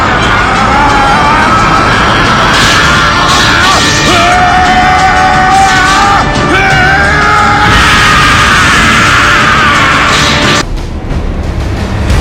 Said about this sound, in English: Vegeta went and he began to scream.